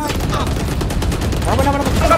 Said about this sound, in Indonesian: Dia kan nembak.